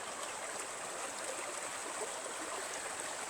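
River water rushing steadily at a 90-degree bend, near an old millrace with stones from a former weir, a continuous broadband wash with no gaps.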